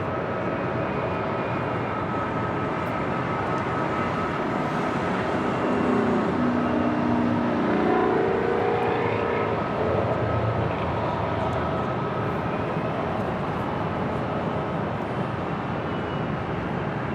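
An Airbus A321 airliner flying from Dallas–Fort Worth arrives at LAX, its engines a broad, steady roar that swells gently mid-pass and stays loud throughout, with no voices over it.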